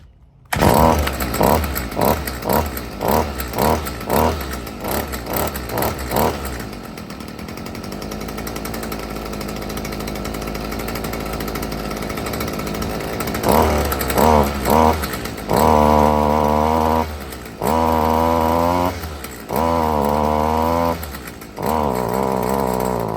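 A Stihl string trimmer engine runs rough after a choke start: a series of short sharp bursts, then a steady buzzing idle that surges and drops in uneven, loud revs near at hand.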